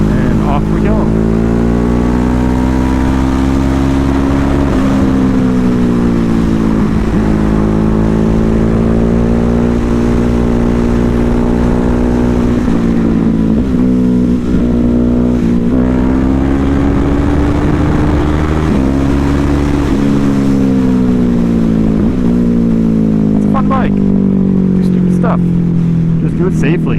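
A Ducati Hypermotard 950 motorcycle engine pulls hard after an upshift into fourth gear, a loud, close steady drone with wind rush that rises in pitch as it accelerates and dips briefly at each gear change.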